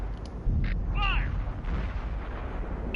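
A tank cannon in World of Tanks fires once near the start, a heavy boom followed by a lingering low rumble, with brief in-game radio chirps and a short tonal sweep layered over the echo.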